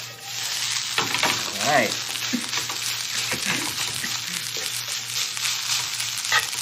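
Garlic fried rice with Spam sizzling loudly in a pan and being tossed, with a steady close frying hiss, scraping and stirring noises, and a person speaking briefly over it.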